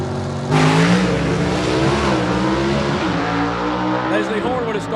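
Gasser drag race cars launch off the starting line together in a roaring, close blast of engine noise, loud and sustained as they pull away, with an announcer talking over it.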